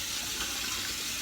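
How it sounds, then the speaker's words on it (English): Tap water pouring into a cooking pot at a kitchen sink, a dense steady rushing hiss heard close up for about a second with no pauses. "Here's the famous pot. I'm just gonna rinse it out"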